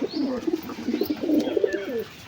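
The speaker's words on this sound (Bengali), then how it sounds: "জ্যাক নর পায়রা" A male Jack pigeon coos in a series of soft, throaty pulses, close and low, repeating rhythmically for a couple of seconds with little else around.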